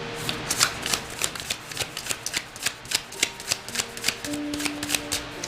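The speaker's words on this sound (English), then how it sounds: "And they shuffle so beautifully," Tarot cards are shuffled in quick repeated riffles, a close crisp flutter of sharp papery clicks in an even rhythm, with a faint tone in the background and no talk.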